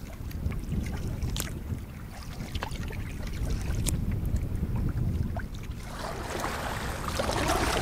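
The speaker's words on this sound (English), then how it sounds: "Turned into the headwind on Minas Lake now. Quite a bit tougher paddling" A canoe is paddled into a headwind on Minas Lake, with continuous wind buffeting and water sloshing against the hull. Soft rhythmic splashes from the paddle strokes sound close by.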